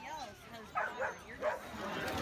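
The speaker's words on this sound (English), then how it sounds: "Let the dogs come take over the pools for 5 hours, so we'll see over 200 dogs" Dogs at a dog swim day in a public pool give a few faint yips and whimpery barks, distant and brief, amid background chatter.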